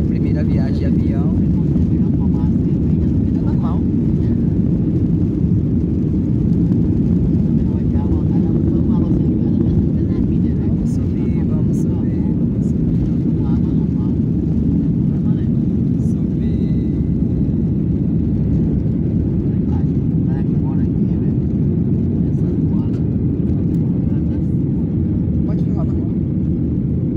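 Steady low roar of an airplane cabin in flight from Salvador to Florianópolis, loud and unbroken, with faint voices and small clicks surfacing now and then above the constant engine and air noise.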